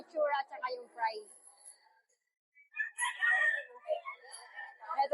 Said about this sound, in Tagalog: kilatisin natin yung nandito na mga manok na inaalagaan ng Firebird GF by Sir Biboy Enriquez